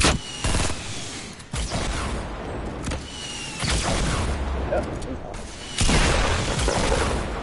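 Gunfire in Fortnite Battle Royale, several loud, close, sharp cracks and booming bursts spread irregularly across a noisy mix, with voices talking in between.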